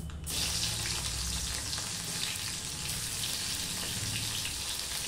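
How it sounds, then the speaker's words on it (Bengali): Onion hitting hot mustard oil with black cumin seeds already tempered, giving a loud, steady close sizzle that starts abruptly and holds for several seconds. "কালো জিরেটা ফোড়ন হয়ে গেছে, এখানে আমি এই পেঁয়াজ দিয়ে দিচ্ছি।"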